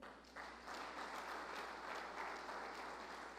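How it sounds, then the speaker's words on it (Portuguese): A church congregation claps in praise to the Lord, a soft, distant, steady patter of applause lasting a few seconds. "Receba as palmas para o Senhor"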